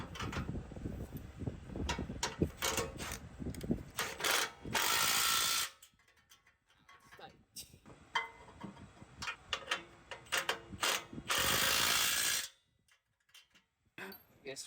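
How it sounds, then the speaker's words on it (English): A ratcheting stubby wrench turns bumper bolt nuts on a Toyota Tacoma, giving two sustained bursts of rapid ratchet clicking amid close clanks and tool handling, with no talk. "So I'm using this one, a stubby wrench inside,"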